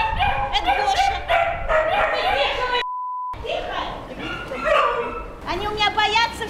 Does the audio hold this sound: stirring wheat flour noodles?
no